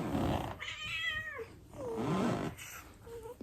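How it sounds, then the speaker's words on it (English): A pet cat meows in a few drawn-out, wavering calls, close and fairly loud, with breathy pauses between them and no talking over it. "This is my dangerous little kitty girl."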